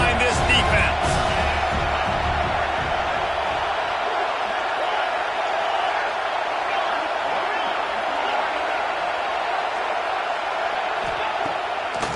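A stadium crowd roars steadily for the defense on a football third down, a dense, loud wash of cheering that holds throughout with scattered whoops.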